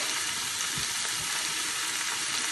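Ginger and garlic sizzle steadily in hot vegetable oil for a shrimp malai curry, a dense, close frying hiss with a couple of soft stirring knocks beneath it.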